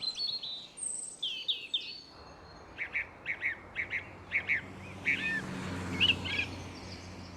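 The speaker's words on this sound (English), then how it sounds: "Everybody tells me nightingales sing during the day" A nightingale sings nearby during the day in a series of short, repeated chirping phrases and whistles, with a faint outdoor hum underneath.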